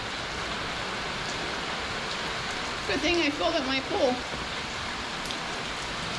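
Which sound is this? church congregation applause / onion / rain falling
rain falling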